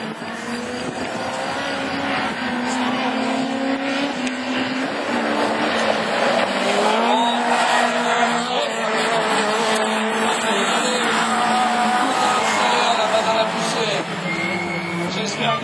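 Rallycross race cars at a Châteauroux Division 4 event, a Peugeot 206 among them, roar away from the start in a loud continuous engine drone, with a commentator talking excitedly over it throughout.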